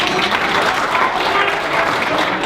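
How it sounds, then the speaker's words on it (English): An audience claps together at a live talk, a dense, loud burst of applause that fills the whole moment with no voices over it. "if you've heard of Harry Houdini, clap right now."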